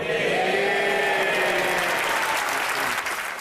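Parliamentary applause following a speech attacking Boris Johnson during a Brexit debate: sustained dense clapping from a crowd of members, steady and loud throughout with no pause.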